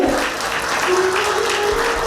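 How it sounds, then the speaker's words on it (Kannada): An audience claps steadily at a magazine launch event, a dense sustained round of applause from a crowd indoors. "ಚಪ್ಪಾಳೆ ಒಂದ್ಸಲ ಜೋರಾಗಿ ಬರಲಿ"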